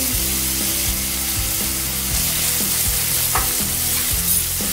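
Carrots for soup are stirred in a frying pan, making a loud, continuous sizzle with repeated scraping strokes close by.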